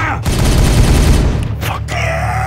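Gunfire in a war video game fills the scene with dense, sustained bursts of shots and heavy low booms, loud and continuous for most of the stretch, with a brief lull near the end.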